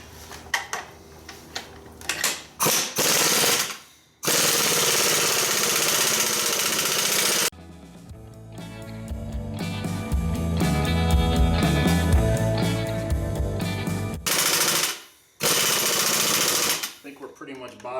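A hydraulic press tool driving a ball joint into the steering knuckle of a Ford truck or van, heard as a sustained mechanical grinding and rattling run in the middle, broken up by bursts of talk before and after.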